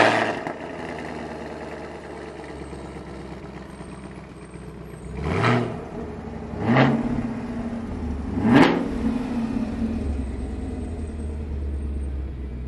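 A 2016 Chevrolet Camaro SS V8 idling steadily, then revved three times in quick succession to about 2,500 RPM, each blip rising and falling before settling back to a deep idle.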